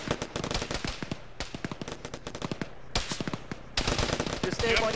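Rapid automatic gunfire in the military shooter Arma, with dense bursts of sharp shots that briefly pause and then resume louder, loud and continuous throughout.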